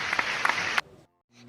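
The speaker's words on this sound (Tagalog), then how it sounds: "pumalakpak nga ang mga gustong umawit" A group claps briskly for under a second, a bright burst of applause that cuts off abruptly into near silence.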